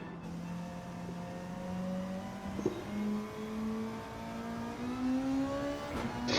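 Race car engine at full throttle, a steady high whine rising in pitch through the gears, heard from a distance and fairly faint, with a brief clack midway.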